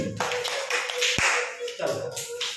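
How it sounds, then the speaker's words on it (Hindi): A group of people claps hands in a short, uneven burst, with a sharp single clap standing out, while a voice talks over the clapping. "इनके लिए ताली बजाओ भाई"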